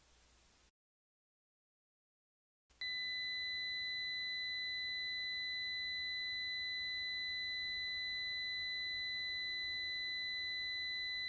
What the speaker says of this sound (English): The buzzer will sound even if as much as 35 ohms is present